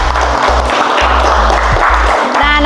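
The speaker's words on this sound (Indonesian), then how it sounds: "Beri aplaus dulu." Classroom of students applauding at the end of a Hindu religion lesson, steady loud clapping that continues unbroken from start to finish.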